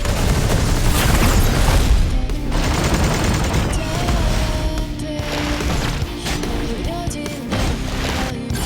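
Heavy artillery bombardment and gunfire from the game Eversoul, a dense loud barrage of booms and rattling shots rolling on continuously, with occasional voice-like tones buried in the clamor.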